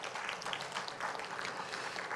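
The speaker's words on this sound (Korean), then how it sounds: "우리 박수로 환영하겠습니다" A congregation applauds in welcome during a Sunday church service, a steady, fairly soft wash of many hands clapping together with no breaks.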